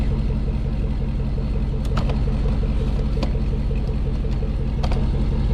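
Exhaust from a Ford truck with stainless headers and a stock muffler, heard close at the tailpipe as a steady low idling rumble with a few faint clicks.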